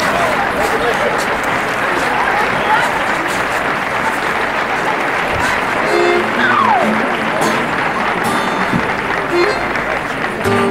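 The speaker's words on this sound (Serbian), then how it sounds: "Pozdravimo ih jednim velikim aplauzom." An audience applauds to welcome a folk dance group, dense sustained clapping from a large crowd, loud and even throughout with a faint whistle and murmur mixed in.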